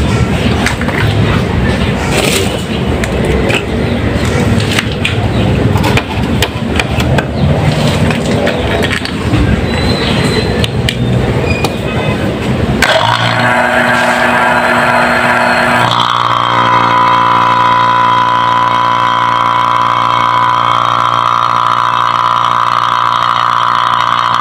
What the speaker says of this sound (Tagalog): So ngayon babacuum na natin to para matesting na natin yung ating repair na compressor.